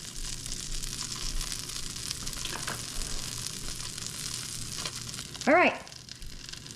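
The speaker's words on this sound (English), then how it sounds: "I'm gonna brown these up in the pan" Cream cheese roll-ups browning in a pan, giving a steady low sizzle and frying crackle throughout, with a brief louder clatter near the end and a voice speaking briefly over it.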